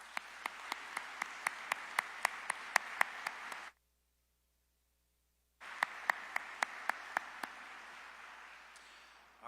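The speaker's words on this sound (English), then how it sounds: "let's give them a round of applause" An indoor audience at a county address gives a round of applause for the county staff. Dense clapping runs for several seconds, then stops abruptly during a short silent gap, and a second burst of applause follows.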